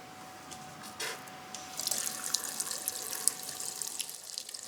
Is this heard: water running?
yes